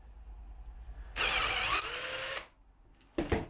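A drill with a flat bit bores through a polyethylene cutting board to cut a washer, a loud whirring burst of just over a second, then quieter spinning, followed by a short sharp burst of grinding.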